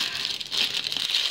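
A plastic packet holding a pair of socks is crinkled close up, a continuous bright rustle and crackle with no talking.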